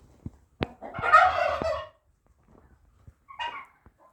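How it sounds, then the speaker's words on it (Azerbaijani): At a poultry spot in Ganja, Kharkov roosters and turkeys sound off nearby: a loud burst of turkey gobbling, then a shorter second gobble, with sharp knocks and near silence in between. "Belə xoruzlar var qardaşım, Xarkov xoruzları."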